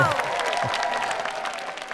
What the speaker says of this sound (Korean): 여기서 박수를 한번 보내드립니다.